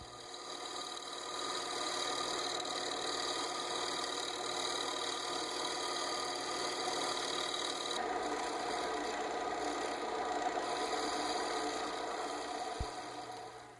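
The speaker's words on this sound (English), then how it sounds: "this is a great angle to show the movements involved in shear scraping" A bowl gouge shear-scrapes a black cherry bowl spinning on a lathe, giving a steady, close rasping scrape that runs almost unbroken for the whole stretch over a low machine hum, with one sharp knock near the end.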